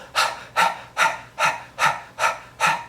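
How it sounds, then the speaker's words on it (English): A person pants rhythmically like a dog, seven quick, evenly spaced breathy huffs, close and clear with no talking. "you're gonna stick out your tongue and you're gonna pant like a dog"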